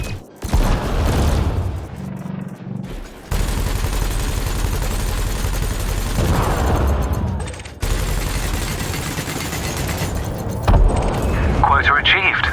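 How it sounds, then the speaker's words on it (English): Spaceship lasers and cannons firing in the space combat game Elite Dangerous, with loud sustained bursts and rapid repeated shots running through most of the stretch, along with booms and engine-like rumble. "Meanwhile, your laser will fire until the capacitor is depleted"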